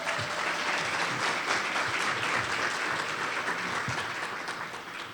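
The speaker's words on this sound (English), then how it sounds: "can we have a round of applause for the Woodside Orchestra?" Audience applause for the Woodside Orchestra at a school staff awards banquet, a dense, sustained clapping from a large room crowd that tapers slightly at the end.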